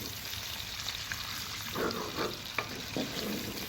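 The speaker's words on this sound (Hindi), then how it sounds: "गर्म होने के बाद इसमें हम प्याज डाल देंगे इस तरह से, और इसको फ्राई करेंगे" Onions fry in hot oil in a pan for an aloo gosht curry, with a steady, moderate sizzle and a few scraping sounds from stirring.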